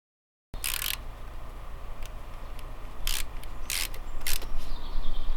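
Screwing a part back onto a Yamaha Virago 535 motorcycle during a valve clearance check, with close ratcheting and metallic clicks, a few sharp bursts and steady mechanical rubbing.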